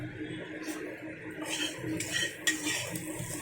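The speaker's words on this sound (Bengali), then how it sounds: "এটাকে একটু খুব সুন্দর নাড়াচাড়া করে ভেজে নিই।" Soybean being stir-fried in a wok, heard as faint metal spatula clinks and scrapes against the pan, with a few sharper taps.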